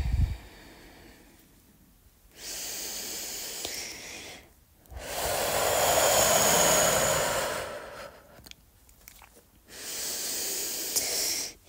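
Deep, forceful breaths during a guided breathing exercise, three long loud breathy inhale-exhale surges separated by quiet pauses, close and alone with no talk.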